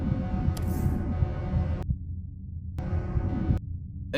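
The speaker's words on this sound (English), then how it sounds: "You feel your heart beating harder and harder" A low, throbbing heartbeat pulses under a droning hum in the dungeon crawler game Netherwhisper, repeating steadily and fairly loud, with the background tone cutting out briefly a few times.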